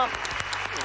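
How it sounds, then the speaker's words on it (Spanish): Studio audience applauding on the Argentine televised singing competition La Voz, a brief burst of dense clapping at steady loudness. "Este aplauso para Hugo."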